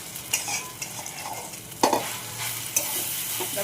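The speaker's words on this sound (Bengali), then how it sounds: "ভালো করে ভাজবো আগে।" Taro pieces frying in plenty of oil in a non-stick wok, a steady close sizzle with intermittent scraping and stirring strokes and a couple of sharper knocks.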